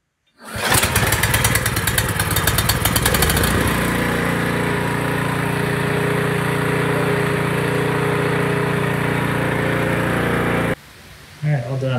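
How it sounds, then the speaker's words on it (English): A Snapper EX1022 single-stage snow blower engine catches after a quick pull and settles into a loud, steady running drone close by, then drops off abruptly near the end before surging again. "Engine starts super good."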